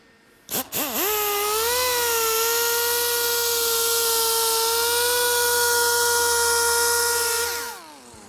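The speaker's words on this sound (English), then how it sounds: "I want to do a more aggressive polishing, so using my cordless machine is going to work as well." A cordless polishing machine works the paint of a matte black BMW M5, its motor spinning up quickly to a loud, steady whine and holding an even pitch before winding down at the end, close and alone.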